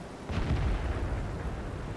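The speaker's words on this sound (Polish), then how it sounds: "A tutaj pierwszy strzał już oddałem w FCMA." A tank cannon fires once in a tank combat video game, a loud deep boom with a low rumbling tail that fades over about two seconds, with no talking.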